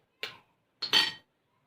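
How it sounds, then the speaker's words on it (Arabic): An egg cracked over a minced meat mixture in a kitchen: a short tap on the shell, then a sharper crack and brief wet split, two close-up bursts against silence. "هنكسر بقى البضايه دي."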